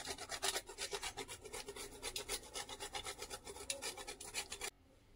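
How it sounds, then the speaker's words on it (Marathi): Nutmeg is grated over a rasp for aliv ladoo, a brisk, rhythmic scraping of quick, even strokes, close and clear, stopping abruptly near the end. "थोडंसं जायफळ घ्यायचं आहे, ते किसून घालायचं आहे।"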